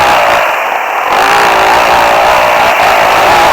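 Two Yamaha YZ450 motocross bikes riding, a loud continuous buzzing engine drone that rises in pitch and holds steady, close and dominant throughout.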